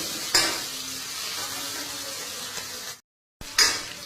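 Onions browning in a pan for a karela (bitter gourd) dish give a steady sizzle with soft stirring scrapes. The sizzle cuts out briefly near the end, then returns.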